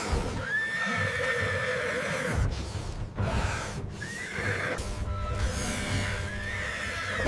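A horse whinnying repeatedly, three loud rising neighs close by, with rustling and movement between them, during a struggle with a giant python.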